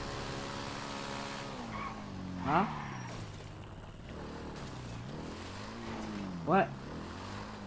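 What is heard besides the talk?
tractor engine noise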